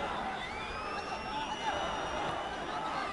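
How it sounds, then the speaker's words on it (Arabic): Football crowd at an Al Ahly vs Zamalek Egyptian league match in 2015, a steady, fairly faint wash of stadium chanting and cheering. "الجماهير المتواجدة تهتف وتشجع وتقول ولسه ولسه"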